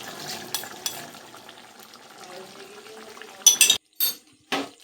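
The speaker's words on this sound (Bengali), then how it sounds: "এই কর্নফ্লাওয়ারটা দিয়ে দেবো ওর মধ্যে" Cornflour slurry pours into a pan of restaurant-style chilli chicken: a faint trickling pour, then a few sharp clinks and knocks of a spoon or bowl against the pan near the end, close by.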